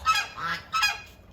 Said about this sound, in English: Those geese are being very annoying.